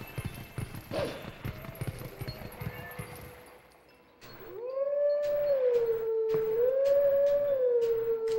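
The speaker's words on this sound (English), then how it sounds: "The game is really lenient about howling." Wolf Link howls in The Legend of Zelda: Twilight Princess. A long, clear, wavering howl that rises and falls follows quieter game sounds with hoof-like clopping, loud and close, with no talk.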